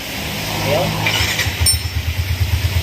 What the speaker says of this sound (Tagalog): Tumandar na yung motor.